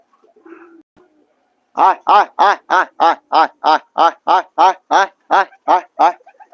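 Racing pigeons returning to their loft give a run of about a dozen evenly spaced, loud coos close by, following a brief faint murmur at the start.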